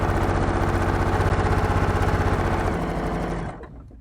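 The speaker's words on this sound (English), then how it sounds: "And do my reinforcement stitch, 1, 2, 3, and be done." A sewing machine hums at steady speed through a reinforcement stitch, loud and close, then slows and stops near the end.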